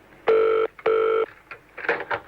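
Two long electronic telephone ring tones heard over a phone line, each lasting under half a second with a short gap between them, followed by faint muffled noises.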